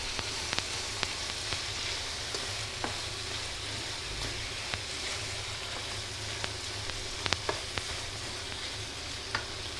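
Finely chopped green chillies frying for a bitter gourd and onion sabzi give a steady, close sizzle, with occasional sharp pops and crackles and no talking.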